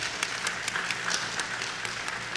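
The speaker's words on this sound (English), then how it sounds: "So give yourselves a clap," Audience of students and adults clapping at a school competition finals event, a steady wash of applause with some louder individual claps standing out, moderately distant and continuous for the whole span.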